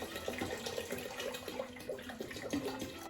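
Cold water pours into a sugar and cream of tartar mixture for homemade ginger beer, a continuous gurgling, splashing stream heard close and fairly quiet, with no talking.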